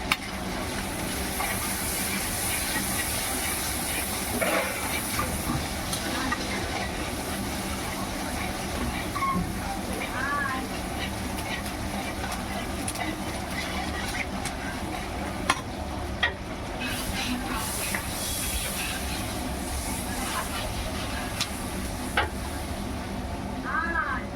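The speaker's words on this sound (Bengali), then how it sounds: "পেঁয়াজটা ভাজা ভাজা হয়ে গেছে" Onions fry in a pan for a mutton curry, a long steady hiss and crackle with occasional clinks and bumps of cookware throughout.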